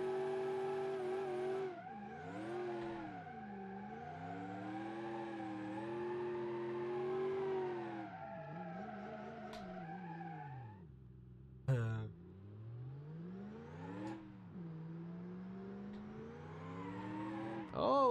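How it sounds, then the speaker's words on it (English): A car's tyres break loose in third gear in BeamNG.drive, its engine revving hard in a long rising and falling whine with squealing skids, fairly faint and steady, with no talk. "She's breaking loose in third gear."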